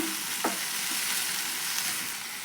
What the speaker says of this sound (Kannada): ಈಗ ಸ್ವಲ್ಪ ಟೊಮೊಟೊ ಮೆತ್ತಗಾಗಿ ಅಲ್ಲಿವರೆಗೂ ಫ್ರೈ ಮಾಡ್ಕೊಳ್ಳೋಣ